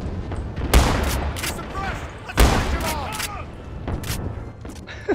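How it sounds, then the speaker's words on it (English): Soldier of Fortune 1 shotgun firing in the video game, two loud explosive blasts about a second and a half apart with reverberant tails and mechanical clatter, followed by fainter shots, under a voice. "the Soldier of Fortune 1 shotgun sounds like an explosion every time you fire it"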